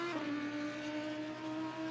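Race car engine in the Assetto Corsa racing game during a 12-hour Nürburgring race, a steady high-pitched drone holding one tone, quiet and continuous with no talk.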